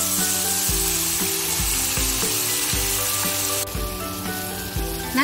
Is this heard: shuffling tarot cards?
no